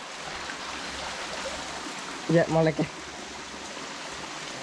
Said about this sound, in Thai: โอ้น้ำตก